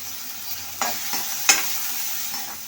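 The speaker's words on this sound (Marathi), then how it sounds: "आता गॅसची तिथे मोठी करून हा कांदा आपल्याला परतून घ्यायचा आहे" Onion and green chillies sauté in a pan over a high gas flame, with a gentle, steady sizzle broken by a few sharp spatula scrapes and taps against the pan.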